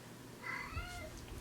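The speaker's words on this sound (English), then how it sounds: "My cat's crying." A house cat meows and cries at a door, a couple of drawn-out wavering calls close to the listener in a quiet room.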